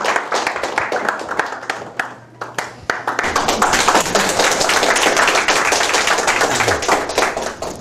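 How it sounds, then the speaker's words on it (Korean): An audience at a lecture applauds the speaker, starting with scattered individual claps and a short spoken exchange, then swelling into dense, steady, close applause that continues to the end. "큰 박수로 청해 듣겠습니다"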